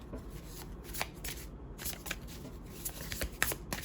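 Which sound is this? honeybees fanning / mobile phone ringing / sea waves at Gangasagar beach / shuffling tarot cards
shuffling tarot cards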